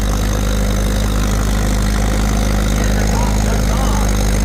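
An antique tractor's engine idles at a county fair tractor pull, a steady, low drone throughout, a constant mechanical rumble with no changes in pace.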